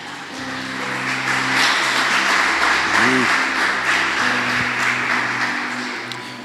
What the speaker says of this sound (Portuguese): Pode se sentar aplaudindo ao Senhor